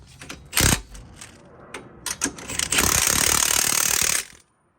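A power gun tightens bolts while a lowering spring is fitted to a 2015-2022 Ford Mustang, giving sharp ratcheting clicks and bursts that build into a long steady rattle before cutting off, close and loud.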